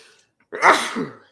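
A single sharp allergy sneeze bursts out after a brief quiet intake of breath, close and loud.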